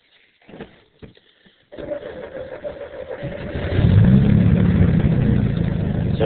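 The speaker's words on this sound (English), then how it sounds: "quick cold start." A Chevrolet S10 pickup cold-starts after a few clicks and cranking, catching into a steady idle that rises into a louder, rougher fast idle, close by with no talk.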